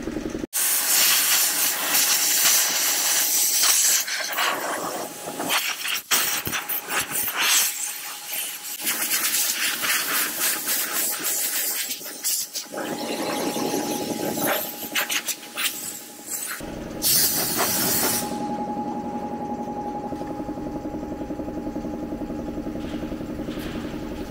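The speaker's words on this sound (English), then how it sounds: "Just giving the ANF125 a little warm up." An ANF125 motorcycle warming up, with an engine drone under steady hiss and a sustained tone, rough and fluctuating at first, then settling into a smoother, quieter idle.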